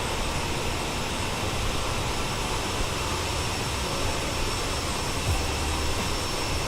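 Bombardier CRJ-700 jet engines in the MSFS 2020 flight simulator at climb power, a steady loud broadband roar that holds constant throughout with no voices.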